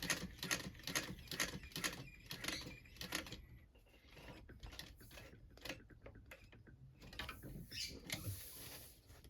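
A 1341 cylinder arm sewing machine stitches around a bag in rapid mechanical bursts of ticking and clattering, pausing briefly midway before running again, close and clear with no talking.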